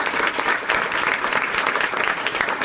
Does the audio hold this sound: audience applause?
yes